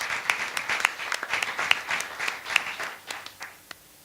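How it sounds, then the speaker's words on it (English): An evening audience applauds at a public event, giving scattered but steady hand claps of moderate loudness with individual sharp claps standing out, tapering off toward the end. "Let's give him a round of applause"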